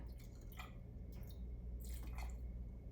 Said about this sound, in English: We are gonna pour the Fernet.